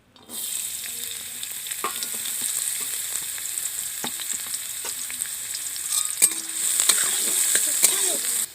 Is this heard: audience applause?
no